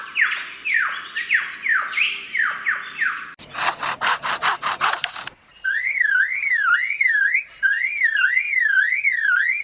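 A lyrebird mimicking whistles and bird calls runs through a string of imitations: rapid descending chirps, then a rhythmic burst of raspy pulses, then a wavering, looping whistle repeated in two long phrases, clear and fairly close.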